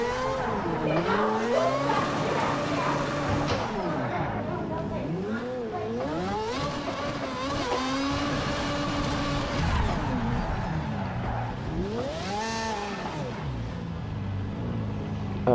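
A race car engine in Project Cars 3 revs and shifts continuously, the pitch sweeping up and dropping repeatedly as gears change, loud and close throughout with a hint of tire squeal.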